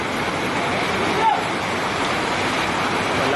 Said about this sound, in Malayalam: ആ ലെവലിലാണ് ഇപ്പോൾ വെള്ളം ഒഴുകുന്നത്